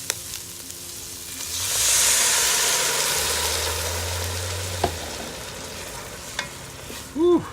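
Sausage being stirred with wine in a Ninja Foodi pot, a steady sizzling hiss with scraping, rising and easing, and a few short knocks near the end, with no talking.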